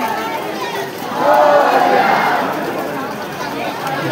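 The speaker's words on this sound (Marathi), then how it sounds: "जाम गर्दी आहे" A dense crowd at the Lalbaug Ganesh darshan in Mumbai, with rain falling, makes a constant wash of chatter and shuffling, loud and close, many voices blurring together.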